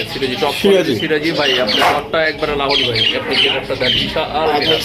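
Sirazi pigeons squawk and call repeatedly and loudly up close, a busy overlapping chorus of cooing and harsh cries.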